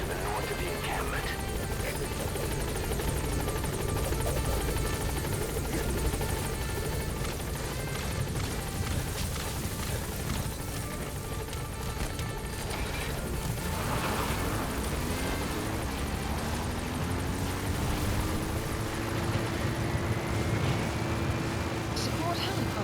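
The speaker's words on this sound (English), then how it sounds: "Support helicopter has arrived." A support helicopter arrives in Metal Gear Solid V: The Phantom Pain, its loud rotor roar and whine rising steadily over game sounds while voices speak throughout.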